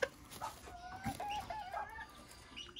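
A short-legged rooster kept in a small backyard coop gives a series of close, clucking calls and crowing bursts, with no talk over them.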